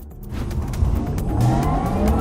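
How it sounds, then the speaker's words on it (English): Porsche Taycan Turbo S electric car with 761 horsepower accelerating, a steady motor hum with a rising whine that grows slightly louder, heard up close with no voices. "This is what 761 horsepower sound like in the Porsche of the future"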